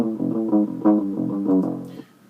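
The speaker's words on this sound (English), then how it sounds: "that DI track that I talked about sounds like this." A dry DI electric guitar track with no amp or effects, a thin, clean rhythmic riff of choppy plucked notes lasting about two seconds.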